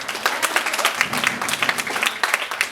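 A church congregation claps and acclaims God during a sermon, a brief burst of dense, fairly loud applause with some uneven peaks from individual claps.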